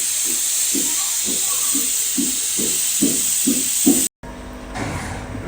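Pressure cooker whistle hissing loudly as steam escapes while biryani cooks, a steady close jet with a rhythmic pulsing rattle underneath, abruptly cut off then followed by softer hiss.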